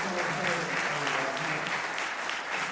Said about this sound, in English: I would love another hand of applause for this incredible band